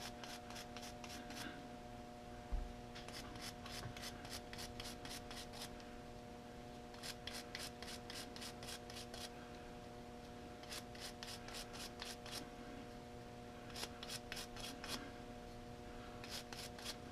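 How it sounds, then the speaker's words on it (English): A toothbrush scrubs the mating gears of a South Bend lathe in bursts of fast, rhythmic bristle strokes, faint and close, separated by brief pauses over a constant electrical hum. "Alright, let's clean out the mating gears."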